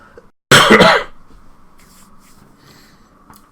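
A single sharp, loud cough bursts out close to the microphone, followed by quiet room tone with faint shuffling.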